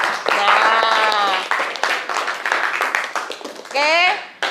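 Classroom applause for a student, a burst of clapping from a group of pupils, with a teacher's voice and children talking over and between the claps.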